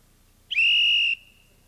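A single loud, clear whistle blast in a Great America radio commercial, a steady shrill tone lasting just over half a second against quiet background.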